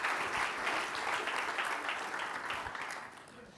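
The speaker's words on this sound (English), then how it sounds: "Please give them a warm round of applause" An audience at a talk on China's future gives sustained applause for two panelists, a dense, steady wash of clapping that slowly fades over a few seconds.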